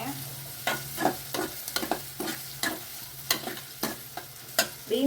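Carrot and bean pieces being stirred in a frying pan for vermicelli upma, with a steady sizzle under repeated scraping strokes of the spoon at an uneven rhythm, close up and with no talking.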